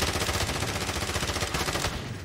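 Gunfire in Call of Duty: Warzone during a Gulag fight rattles in a dense, loud automatic burst that lasts about two seconds before easing off.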